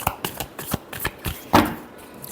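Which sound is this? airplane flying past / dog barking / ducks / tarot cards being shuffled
tarot cards being shuffled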